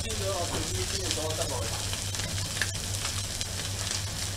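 Greenland halibut steaks pan-fry, cooked all at once, giving a continuous close sizzle, with faint voices briefly audible near the start.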